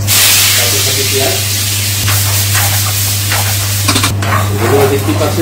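Cumin seeds and onions fry in hot oil, a loud continuous sizzle and spatter over a steady low hum, with a few louder crackles and bursts.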